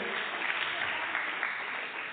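A crowd applauds steadily to welcome a guest at a public housing-handover event in Gondal, Gujarat; the dense, even clapping holds for about two seconds with no pause.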